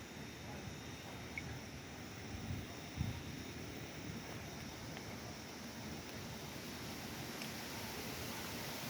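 Steady broadband rushing of wind buffeting outdoors on a road in Bohol, constant and fairly loud throughout with no voices.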